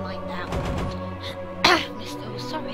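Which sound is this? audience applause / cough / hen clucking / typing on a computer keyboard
cough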